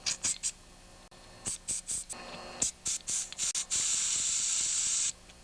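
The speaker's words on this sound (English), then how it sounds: "I'm also going to spray carb cleaner in all these holes here." Short hissing bursts of carburetor cleaner sprayed into the carburetor of a vintage Stihl chainsaw during a rebuild, in quick succession, then one long sustained spray, close and crisp against a quiet background.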